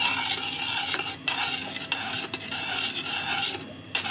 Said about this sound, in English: Then turn on the heat, combine and melt sugar and simmer until it becomes a little bit thickened.